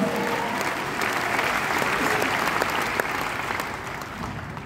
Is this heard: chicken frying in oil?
no